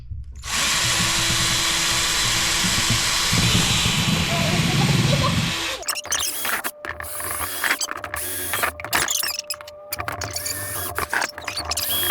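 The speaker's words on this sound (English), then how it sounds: "I'm gonna drill some holes." A power drill whines loudly and steadily for several seconds as it bores holes into a plastic tote, then stops, leaving quieter clatter and handling noises.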